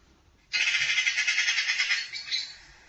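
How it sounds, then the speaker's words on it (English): A recorded magpie call played back, a harsh, loud, rapid rattling chatter that starts abruptly, runs for about one and a half seconds and then trails off more softly. "Their call's very, very harsh. It's a very harsh sound, a very strong sound."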